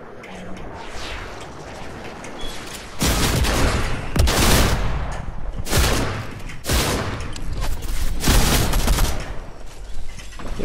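Rapid bursts of gunfire in a no-build shooter video game, loud and dense volleys repeating for most of the clip after a quieter start.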